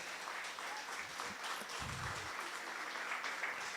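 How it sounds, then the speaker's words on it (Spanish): A church congregation applauds together during a Catholic service, with steady, sustained clapping at moderate distance and a brief low thump partway through, and no voices over it. "demos un aplauso al Espíritu Santo de Dios."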